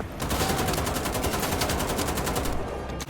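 Rapid continuous gunfire rattles from a violent, gory action shooter video game as enemies are gunned down, a dense steady stream of shots at close range.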